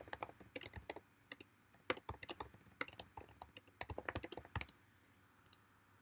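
Fingers type a message on a computer keyboard, with irregular bursts of close, crisp key clicks that thin out and stop near the end, with no speech.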